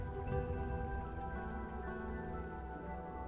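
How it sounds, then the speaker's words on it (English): Steady rain falling in the Settlers Heritage of Kings video game, a continuous dense patter alongside a sustained tonal background layer, even in level throughout with no voices. "it never ceased to rain"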